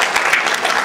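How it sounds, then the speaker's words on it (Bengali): An audience at an award ceremony for outstanding personalities breaks into applause, a dense, steady wash of many hands clapping loudly and close throughout. "তাদের উদ্দেশ্যে আমরা একটা জোরে হাত তালি দিই"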